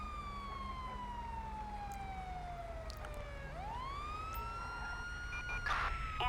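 An EMS ambulance siren in the GTA 5 LSPDFR police mod wails in long rising and falling sweeps, fairly near and loud over a low rumbling background with no talk.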